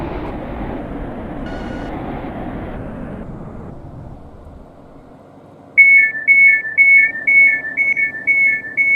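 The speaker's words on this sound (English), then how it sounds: "This train has 3 coaches." A three-coach Class 331 train in the Roblox railway game Stepford County Railway gives a steady rumble that fades to near quiet, then a loud, rapidly repeating electronic chime pattern sounds for the final few seconds.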